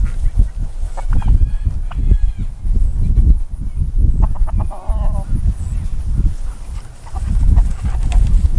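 Farm turkeys gobble and cluck in repeated bursts close by, over a constant low rumble of wind or handling noise.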